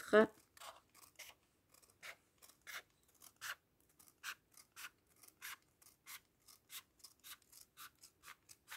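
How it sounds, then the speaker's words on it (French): Scissors snip through craft material for a Christmas tree decoration, a quiet, close run of about twenty crisp, evenly paced cuts with short pauses between them. "Et là, je découpe mes 1 cm."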